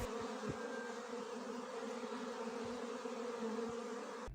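A swarm of honey bees settling on a garden rake and an apple branch in an apiary gives off a steady, dense buzzing hum, close and continuous, with no talking.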